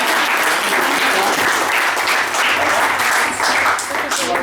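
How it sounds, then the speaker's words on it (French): A live audience at a hypnosis demonstration claps for Caroline, a loud and full burst of many hands that holds steady throughout, with faint murmurs mixed into the clapping. "On peut applaudir Caroline."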